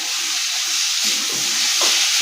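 Potatoes added to a hot pan of spice masala for Bengali paneer dalna, giving a steady close hiss and sizzle with brief louder crackles as they hit the oil.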